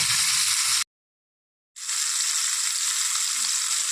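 Pomfret fish fry lightly in hot oil with a loud, steady, hissing sizzle close by, cut off by a brief gap of silence before the sizzle resumes just as strongly.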